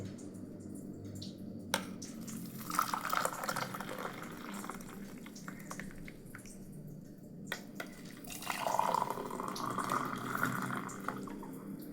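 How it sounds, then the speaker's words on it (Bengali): Tea pours from a pot into a cup in two soft, short streams, faint and close in a quiet kitchen, with a few small clinks and no talk. "চলো চাটা ঢেলে নিই।"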